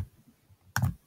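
A single quiet computer mouse click lands near the end, after a faint low rumble, while working in Google Slides.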